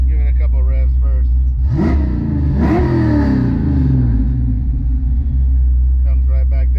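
1993 Ford Mustang GT foxbody with a choppy cam, idling with a loping rumble and then revved twice in quick blips that rise and fall back to idle, close and loud.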